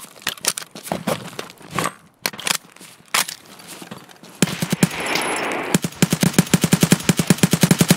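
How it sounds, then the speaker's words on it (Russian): Gunfire in the video game Escape From Tarkov on the Shoreline map: loud, close single shots and short bursts, then a sustained rapid automatic volley near the end. "Стреляй, земляк! Мы стреляем!"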